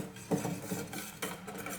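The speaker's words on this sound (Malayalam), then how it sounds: "കുറച്ച് സമയം നമുക്ക് ഇതുപോലെ ഒന്ന് ഇളക്കി കൊടുക്കാം" A spoon stirs mango glaze thickened with cornflour in a pan, giving soft, quiet scrapes and light clinks in an irregular rhythm, with no voices.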